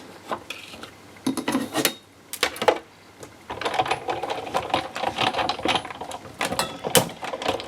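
A die-cutting machine runs a paper craft die through for a second cut, giving irregular mechanical clicks and rattling bursts with brief pauses, close and fairly loud.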